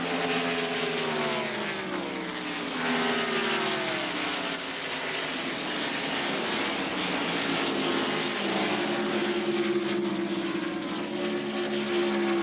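NASCAR stock cars from the 1997 California 500 roar down the backstretch, a loud continuous engine drone with pitch sweeps as cars pass and draft one another, steady throughout.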